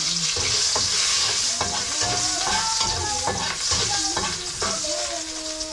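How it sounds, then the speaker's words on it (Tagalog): Garlic sautés in a hot pan for home cooking, a steady loud sizzle running throughout, broken by repeated scraping stir strokes of a utensil against the pan at a brisk, fairly regular rhythm. "Kaya igigisa na natin ang bawang"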